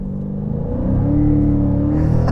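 A 2021 Dodge Challenger Scat Pack 392 Widebody V8 with a six-speed manual revs up from a deep rumbling idle into a louder, rising growl, heard close and steady.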